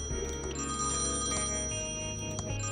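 A telephone rings in the point-and-click adventure game Thimbleweed Park, a dense metallic bell jangle holding steady and loud for the whole span with small repeated strikes.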